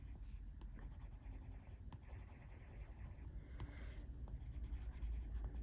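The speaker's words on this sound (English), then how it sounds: "With my blender pencil, I'm just going to go into that lighter area at the top of these and just blend it in." A blender pencil rubbed over coloured pencil on paper during a colouring session, giving a steady, soft, close scratchy hiss with faint rhythmic strokes and no talk.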